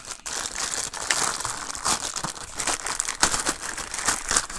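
Plastic bag crinkling steadily as a PS5 controller stand is unpacked, a continuous close rustle with sharper crackles throughout and no talk.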